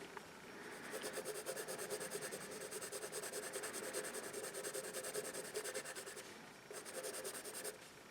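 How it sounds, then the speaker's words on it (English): A Dixon Oriole No. 2 HB pencil scratches across paper in a continuous close rasping stroke, with brief pauses and small rhythmic pulses as the graphite moves. "let's get to the business of looking at the actual writing of the pencils"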